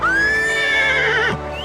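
A single horse whinny rings out loud and close, rising then wavering down over about a second and a half before cutting off abruptly, with no talk.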